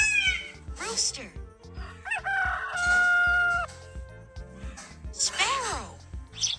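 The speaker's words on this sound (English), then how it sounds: "rooster," Cartoon rooster crowing for children, a drawn-out stylized cock-a-doodle-doo rising and holding over a bouncy music backing, with clucking-like calls around it.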